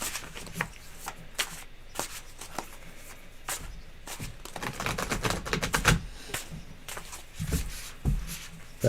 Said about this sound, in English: You're going to shuffle them